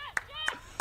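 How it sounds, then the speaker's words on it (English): Three separate sharp hand claps, evenly spaced about a third of a second apart, close and fairly quiet, from someone clapping for themselves at a women's soccer game. "I'm clapping for myself up here."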